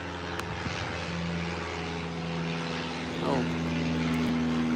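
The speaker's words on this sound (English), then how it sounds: "Another plane." A propeller airplane passes overhead, a steady droning hum that holds throughout and swells slightly near the end, with a person talking over it.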